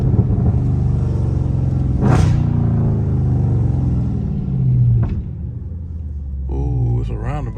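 Loud Dodge Charger Scat Pack rumbling close by, with a revving surge near the two-second mark and a steady low growl beneath; people talk over it and a brief exclamation is heard.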